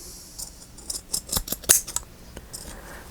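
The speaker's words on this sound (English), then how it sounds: "pinking shears." Pinking shears cut through paper in a run of crisp snips, about eight quick clicking cuts close to the microphone against a quiet background.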